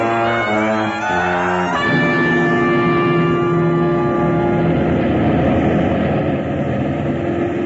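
Car engine driving as a sound effect in an old-time radio drama, heard as a loud, steady droning motor hum with tonal whine, under a short musical sting at the start.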